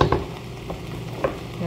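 Fish fries in a pan with oil, giving a steady close sizzle broken by a few soft stirring clinks.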